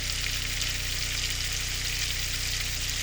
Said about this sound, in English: We're sauteing avocado oil, ghee, K-Paul seasoning, and lemon juice.